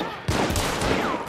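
A single Veterli rifle shot cracks out in the game Hunt: Showdown, a sudden close blast followed by a short echoing tail.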